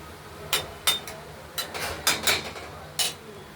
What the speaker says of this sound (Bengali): ঢাকনাটা খুলে একবার আলু পেঁয়াজগুলোকে নেড়ে চেড়ে দিই।